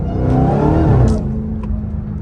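A Dodge Hellcat's supercharged engine roars loudly on a downshift in morning traffic, the engine note falling with a whining edge before settling to a lower drone, heard from inside the car.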